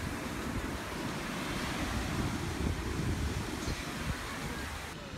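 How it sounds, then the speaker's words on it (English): At Siesta Key Beach, surf rolls and wind buffets the microphone in a dense, continuous roar that stays loud and even throughout, with no clear voices. "So right now we're at Siesta Key Beach, and there's tons of people here."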